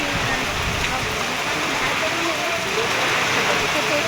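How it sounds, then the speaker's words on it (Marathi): Heavy stormy rain pours steadily in Khed, Ratnagiri, during extreme rainfall, in a dense, unbroken hiss, loud and close, with a faint murmur of voices underneath. "वादळ खूप पाऊस जोरात चालू आहे"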